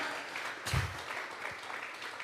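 A congregation at a Sunday morning church service gives applause to God, soft and diffuse at first, then swelling with a brief louder burst before settling into a steady quiet patter.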